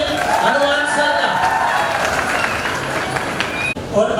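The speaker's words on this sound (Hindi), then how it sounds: "तो जोरदार तालियों के साथ स्वागत करें हनुमान सर का।" An audience at a 2019 victory celebration event gives loud, sustained clapping to welcome a guest, a dense crowd roar filling the room and fading out near the end.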